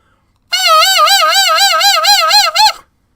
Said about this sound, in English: This is not how you would normally hear a saxophone play vibrato.